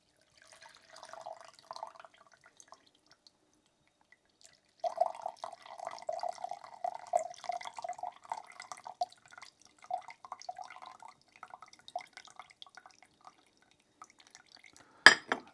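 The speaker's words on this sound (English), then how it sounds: "we're just going to allow that to naturally filter through there to capture all of the bits" Herbal honey energy drink trickling through a strainer, soft intermittent dripping and thin liquid pattering that starts, pauses, then runs in a longer stream, ending with a sharp clink.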